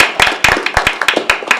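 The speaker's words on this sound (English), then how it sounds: "That deserves an applause." A small group claps in a council meeting room to congratulate a member appointed to a legislative committee; sparse, distinct handclaps ring out in an uneven rhythm, close and fairly loud, with no voices.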